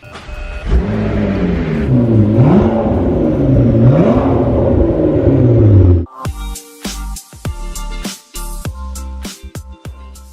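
A rebuilt, previously wrecked McLaren fires up and revs loudly with a rising, falling engine note for about six seconds, then cuts to sharp, clattery mechanical knocks and bangs.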